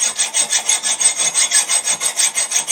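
A hacksaw cuts through a steel air rifle barrel in a steady back-and-forth rhythm, about a dozen rasping strokes, close and loud with no talking.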